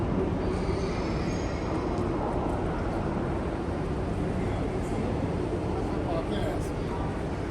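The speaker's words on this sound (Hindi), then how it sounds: "ये हमारी ट्रेन खड़ी है, यहाँ से उतर कर हम आए हैं" A train stands at a station stop in Hamburg, giving off a steady, broad rumble with faint rail noise throughout. Voices can be heard over it.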